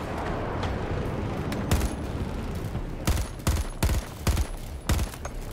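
Bursts of AC 42 rifle fire in Battlefield 2042, loud and close, coming in quick clustered volleys with brief pauses between them over rumbling battlefield noise.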